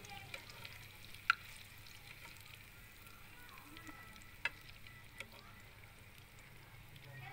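Fish frying in hot oil outdoors in 40-degree heat, a faint steady sizzle with a few sharp pops and crackles rising above a low background hum.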